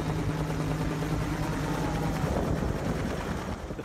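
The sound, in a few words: helicopters flying over a bushfire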